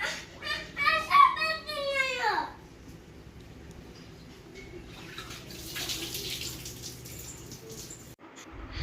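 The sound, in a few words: child washing toy car with water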